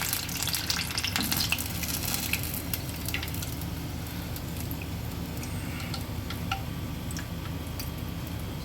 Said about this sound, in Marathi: अशा पद्धतीने आपल्याला या सर्व भाज्या छान तळून घ्यायच्या आहेत गोल्डन ब्राऊन होईपर्यंत